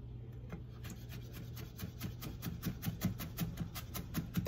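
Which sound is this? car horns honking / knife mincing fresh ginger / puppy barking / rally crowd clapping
knife mincing fresh ginger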